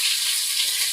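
Spice paste stir-fried in a pan for a rohu fish curry with potatoes and pointed gourd, a steady close hiss and sizzle held evenly throughout.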